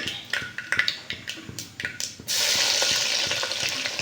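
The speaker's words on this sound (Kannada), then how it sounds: "ಇದಕ್ಕೆ ನಾನು ಬೆಳ್ಳುಳ್ಳಿ ಹಾಕೊತಾ ಇದ್ದೀನಿ" Garlic dropped into hot oil with mustard seeds for rasam, first scattered crackling pops and stirring taps, then a sudden loud continuous sizzle close up.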